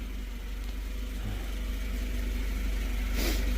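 A vehicle engine hums at a steady low level while slowly driving forward to move a big steel tank sump, close and continuous with a small rise near the end.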